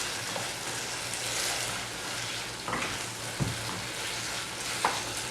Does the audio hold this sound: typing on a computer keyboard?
no